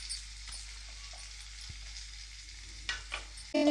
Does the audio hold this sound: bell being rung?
no